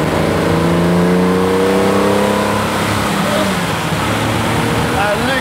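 A Ferrari sports car engine revs and accelerates loudly while driving through a city like Bangkok, its rising and falling roar filling the scene as a voice speaks over it.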